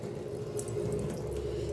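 Water running into a kitchen sink during cleaning, a steady close trickling splash with a low hum beneath, quiet and continuous with no talk.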